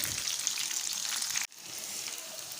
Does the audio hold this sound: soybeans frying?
yes